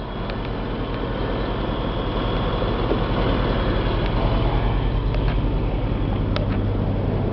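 A Caterpillar 3126 diesel engine in a 2002 Chevy C8500 military truck runs steadily at idle, a loud, close, low rumbling drone with an even rhythmic throb and no talking.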